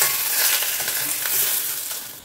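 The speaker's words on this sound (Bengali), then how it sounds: "সেটা দিয়েই বড়িটা ভাজছি" Lentil bori fry in leftover fish oil, a continuous close hiss and sizzle with faint crackles throughout, no voices.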